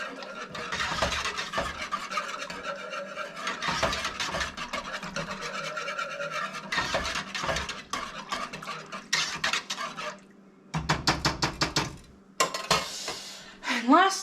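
Pumpkin pie soup being mixed in a bowl, with a utensil scraping and clinking against the sides in repeated irregular bursts and short pauses, close and fairly loud.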